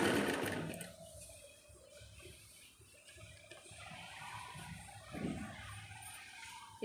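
A sewing machine stitching fabric runs with a close, steady whirring hum and a brief burst of louder mechanical chatter near the end, with no talking.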